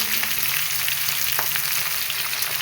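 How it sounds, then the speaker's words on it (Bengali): Panch phoron whole spices sizzle in hot oil in a pan, a close, steady crackling fry with no talk. "পাঁচফোড়ন দিয়ে দিলাম পাঁচফোড়ন দেওয়ার পর পাঁচফোড়নটা একটু ভাজা ভাজা হলে তারপর আলুগুলো দিয়ে দেবো"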